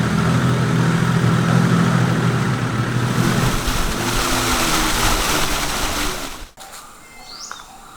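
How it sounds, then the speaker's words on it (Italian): A motorboat engine drones steadily and loudly while the boat labours through very shallow water in southern Vietnam, near the Cambodian border. The drone cuts off abruptly near the end, and faint birdsong is left behind. "Siamo sulla barca a motore, ma qui c'è talmente poca acqua che si fatica."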